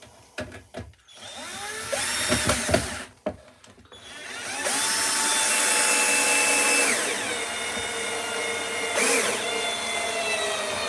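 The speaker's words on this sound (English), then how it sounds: "I can't really do much about it other than drill it" A power drill bores into wood, first in short stop-start bursts, then in one long steady whir, ending with a brief higher spin-up.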